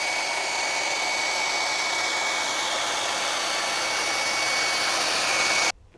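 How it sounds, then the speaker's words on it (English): A hair dryer heating adhesive for a carbon fiber rear spoiler on a Tesla Model 3, blowing steadily at close range, a constant whooshing roar with a faint whine that cuts off abruptly just before the end. "I'm just gonna go ahead and use a hair dryer to heat this adhesive up"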